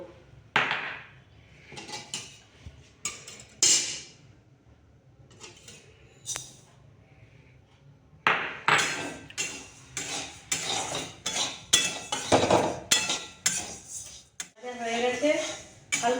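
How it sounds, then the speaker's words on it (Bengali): Mung dal dry-roasts in a pan on a home stove for pulse dumplings. Intermittent metallic clinks and scrapes of stirring come up close, growing busier in the second half, with a brief voice near the end. "মুগ ডালটা আগে ভেজে নেবো"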